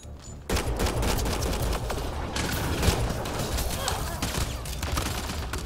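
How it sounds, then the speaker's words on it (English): Sustained gunfire in a Mass Effect Andromeda cover-shooter firefight, dense overlapping shots and bursts starting abruptly after a brief quiet moment and continuing loud throughout, with faint voices mixed in. "I could probably try playing this just traditional cover shooter. Yep, it's open fire."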